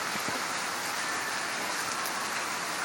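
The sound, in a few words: heavy rain falling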